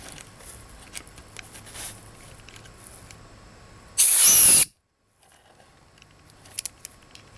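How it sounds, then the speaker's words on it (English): An air compressor nozzle blasts air through the jets of a SYM Wolf 150 motorcycle carburetor in a cluttered workspace, one loud, steady hiss lasting about half a second before cutting off abruptly into quiet. "I just take my compressor and you just blow these things out"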